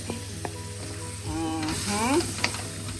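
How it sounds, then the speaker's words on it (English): Pork adobo frying in oil sizzles steadily, then swells louder as the adobo sauce is poured back over the fried pork, with a few clinks of stirring and faint voices in the background. "now I'm going to return the sauce to it"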